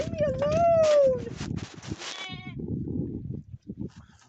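A hair sheep ram bleats with a wavering cry near the start, followed by further bleats and rustling farmyard noise, with a person talking over parts of it.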